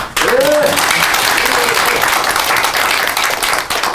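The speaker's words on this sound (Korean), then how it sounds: "그 진실, 그 정교모 교수님들께 박수 한번 쳐드릴까요?" Loud audience applause for the professors at a forum event, sustained and dense throughout with a faint voice at the start.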